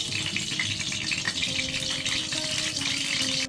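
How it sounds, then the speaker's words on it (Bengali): Paneer frying in a little white oil alongside coriander leaves for palak paneer, producing a dense, continuous close sizzle with a steady crackling hiss throughout. "পনিরটা একটুখানি ভেজে নেওয়ার জন্য দিয়ে দিলাম সামান্য তেল সাদা তেল দিলাম"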